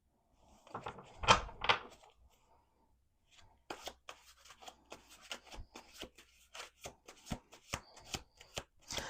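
A deck of tarot cards is riffled and shuffled close by: a couple of loud rippling riffles, a pause, then a rhythmic series of crisp slaps and snaps as the cards are bridged and cut repeatedly.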